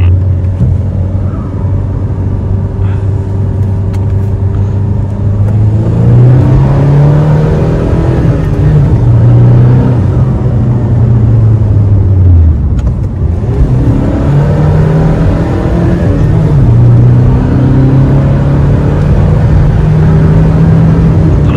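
A tuned Hyundai Creta launches hard and accelerates, engine droning loud and close as its pitch climbs through gear changes, dipping and rising again over a road rumble with no speech.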